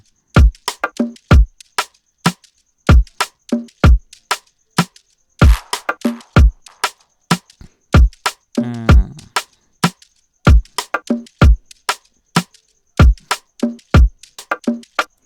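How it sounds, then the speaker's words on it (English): A punchy, steady FL Studio 20 drum groove with deep kick hits and crisp percussive slaps in a syncopated Afrobeat pattern, with a brief roll midway, no voices. "So the drums sound like this."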